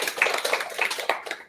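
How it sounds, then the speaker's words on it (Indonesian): Audience at a school student council candidates' podcast event clapping, a short burst of brisk hand claps that thins out toward the end. "Tepuk tangan dulu."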